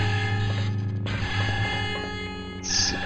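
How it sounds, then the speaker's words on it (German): An alarm ringing in the Star Wars game Jedi Knight: Mysteries of the Sith, with a steady electronic tone droning over mechanical hum, and a brief higher burst near the end. "Es ertönt da gerade irgendein Alarm."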